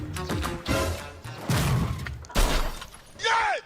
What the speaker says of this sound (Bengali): বাইকটা ফেলে দিলেন কেন?